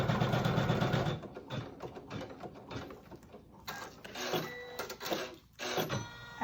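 An embroidery machine stitches an attachment seam through quilted fabric, a fast, steady mechanical rattle for about the first second, followed by quieter clicks and handling noises.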